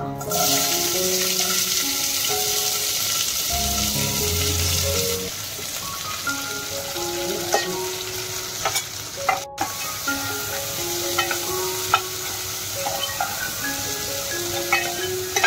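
Cumin, asafoetida and onion frying in hot oil: a strong steady sizzle at first, then quieter frying with repeated spoon scrapes and taps against the pan, close up, with no speech.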